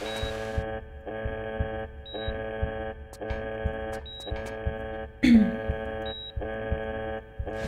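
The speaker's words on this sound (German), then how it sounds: "Dieser Alarm nervt ein bisschen." Repeating electronic alarm beep in the video game Tomb Raider 3, a steady pulsing tone sounding in regular bursts about every two seconds, with brief clicks and a short thud partway through.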